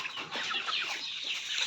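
A native rooster clucking in a backyard flock of egg-laying chickens, with a quick run of close, busy clucks and calls that continue steadily throughout.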